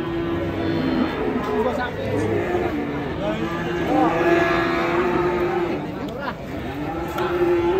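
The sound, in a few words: fierce cow (cattle)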